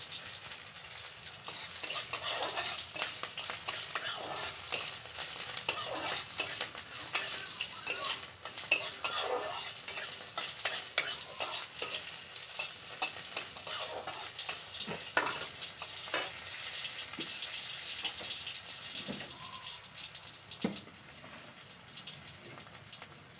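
Green chillies and panch phoron frying in a pan, a continuous soft sizzle broken by repeated clicks and scrapes of stirring, fairly quiet and with no voices.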